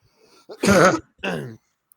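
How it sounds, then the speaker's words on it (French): Two short, rough coughs in quick succession, close to the microphone, with quiet around them. "il faut que je tousse un coup"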